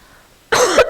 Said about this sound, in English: I woke up with this cold yesterday, with this cough